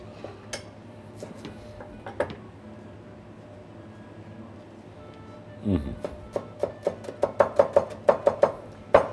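Fresh coriander is chopped finely with a knife on a board, a run of quick, sharp, close taps that grows into a steady rhythmic series near the end, with softer kitchen handling sounds earlier.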